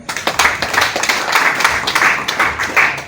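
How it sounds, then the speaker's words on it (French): Audience applause at a clinic inauguration in Kasenyi, Congo: a steady, close crowd of rhythmic clapping that carries on throughout without pause. "Il mérite nos applaudissements."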